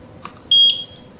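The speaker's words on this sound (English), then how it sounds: "Press the seat button until you hear a beep." An Eufy S330 battery security camera gives a single short, clear electronic beep when its button is pressed, loud and close against a quiet room with a faint click just before.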